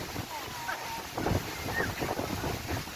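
Strong wind buffets the microphone at Pasir Ris Park Beach during high tide, a steady rumbling roar with gusts swelling midway, while someone talks faintly underneath.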